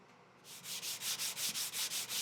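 Rhythmic back-and-forth sanding of walnut wood, about ten even rasping strokes after a brief quiet start, close and fairly loud.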